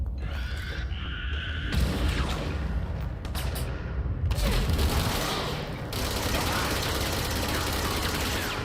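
Gunfire and explosions from the video game Control, a dense, continuous barrage of shots and blasts with bursts swelling and fading throughout, loud and busy with no talk over it.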